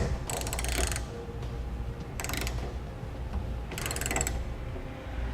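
Bolts on a Thule TracRac SR sliding truck bed ladder rack are tightened with a ratchet, giving three bursts of quick clicking separated by short pauses. The clicks are close and clear over a low background hum.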